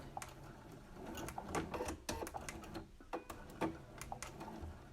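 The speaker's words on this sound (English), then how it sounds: "going to back stitch over this one" Sewing machine back stitching through a fabric face mask, a fast rattling run of needle clatter broken by short pauses and irregular clicks as the stitch direction changes, close and steady.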